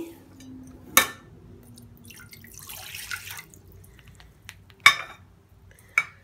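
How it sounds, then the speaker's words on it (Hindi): A glass clinks against a hard surface, then water pours briefly and softly, followed by two more sharp glassy clinks close by. "यहाँ हम लेंगे 1 गिलास पानी,"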